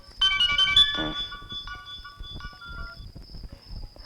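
A phone ringtone plays a bright, repeating electronic melody close by, loud at first and then lingering more softly, with a few faint background sounds beneath it.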